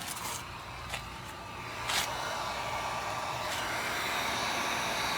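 A heat gun hums steadily while warming vinyl overlay film on a 2015-or-later Dodge Charger side marker, with a few faint clicks and light handling sounds and no one speaking.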